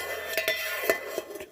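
A Toaks spoon with a polished end knocks against a camping cooking pot lid, producing several quiet metallic clinks and taps in close succession.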